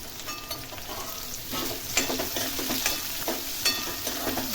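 Finely chopped onion fries with green chillies in a pan, a continuous close sizzle with intermittent scraping stirs of a spatula.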